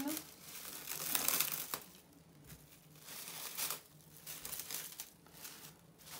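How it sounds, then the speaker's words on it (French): Crisp crinkling of thin cellophane wrap in bursts, handled close up, with a quiet room in the background. "Donc vous prenez un morceau de papier cellophane."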